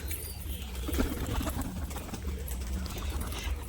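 Road-flying pigeons cooing, soft low murmuring coos repeating through a steady outdoor background with faint bird calls, close and fairly quiet.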